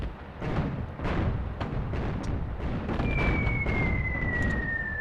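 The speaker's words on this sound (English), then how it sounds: "Let's use some artillery, shall we?" Artillery barrage in Attack at Dawn: North Africa, repeated heavy booms and thuds rolling in an uneven rhythm, some close and loud, with a falling whistle of an incoming shell partway through.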